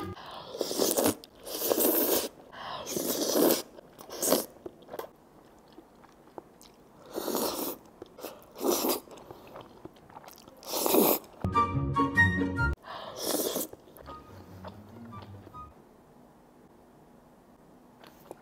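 Jajangmyeon noodles eaten up close in bursts of wet slurping and chewing, loud and intimate, with a short crinkly rustle partway through and quieter mouth sounds trailing off at the end.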